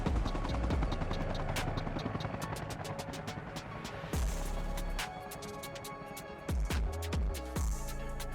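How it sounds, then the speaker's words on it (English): Helicopter in the military video game Arma Reforger, a loud, steady rotor and engine drone cut now and then by sharp clicks and abrupt jumps in level. "Nice helicopter."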